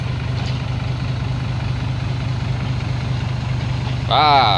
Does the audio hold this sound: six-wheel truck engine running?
yes